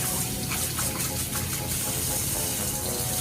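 Warm water runs steadily from a tap into a sink while a costume is being made, a continuous broadband rush with no talk over it.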